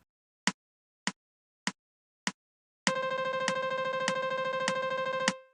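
After four crisp clicks, a saxophone plays a fast, sustained stream of demisemiquaver notes on a single pitch. It is close and bright, with faint pulses marking the beats.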